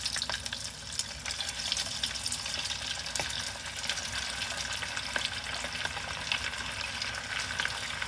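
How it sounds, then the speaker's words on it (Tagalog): A batch of chicken karaage deep-frying in oil gives a dense, continuous crackling sizzle with occasional sharper pops, steady and close with no talking. "Ilagay ko natin yung last batch natin ng chicken."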